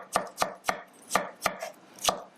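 A knife chops a vegetable on a cutting board for a stir-fried udon dish, producing seven crisp, evenly spaced cuts close to the listener with no voices.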